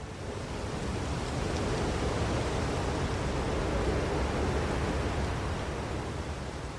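Ocean surf breaks on a long beach in Aurora Province, Philippines, as a constant, loud, even roar that holds throughout with no voices.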